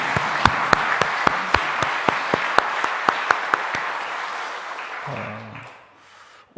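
Church congregation clapping after a Friday dawn worship service, heard as evenly spaced sharp claps over a wash of applause that fades away near the end.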